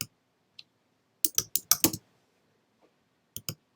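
Computer keyboard typing, a few quick clustered keystrokes with short pauses between, close and crisp in an otherwise quiet room.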